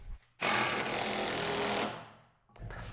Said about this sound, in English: back out that one screw or fastener that you put in the bottom post.